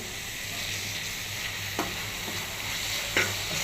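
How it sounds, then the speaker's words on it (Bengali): Jute leaves (pat shak) fry in a pan with a constant close sizzle and a low hum beneath, broken by a couple of faint stirring scrapes. "পাট শাক ভাজি করতেছি"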